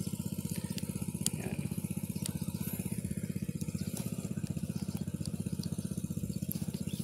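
A small engine-driven water pump for a drip irrigation system runs steadily and close by, with a fast, even pulsing drone throughout and no talk over it.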